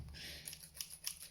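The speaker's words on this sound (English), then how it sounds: "let me find a pair of scissors in the drawer" A pair of scissors from a kitchen drawer is handled at close range, giving a few quick, faint metallic snips and clicks in a short burst.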